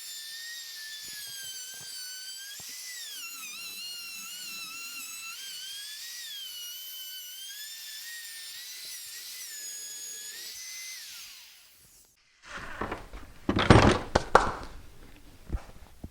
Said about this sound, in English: I want to go counterclockwise around this top to make the router run smoothly